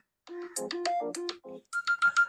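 An Oppo Reno 11 5G phone ringtone plays a quick, bouncy electronic melody of short notes, clear and close, with no voices.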